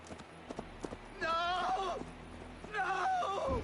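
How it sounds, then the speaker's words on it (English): Horse hooves clip-clop at a steady trot in Assassin's Creed Valhalla, regular knocks under a voice talking, with bursts of game music or effects layered over the riding. "O cavalo não vai mais rápido, não."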